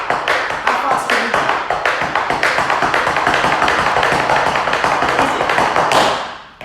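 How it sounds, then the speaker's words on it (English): Tap dance heel steps on a hard floor, a dense run of sharp close taps that speed up into a rapid clatter before stopping abruptly near the end. "Step, heels, heels, heels. Faster."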